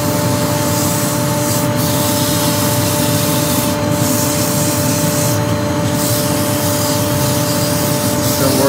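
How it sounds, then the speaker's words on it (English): Walnut being sanded on a lathe with 100 grit sandpaper, a loud continuous rubbing hiss over a steady motor hum, with brief pauses in the friction. "Right, nice bit of walnut, this one. Okay, Charlie, if we have the extraction on, please. Starting with 100 grit"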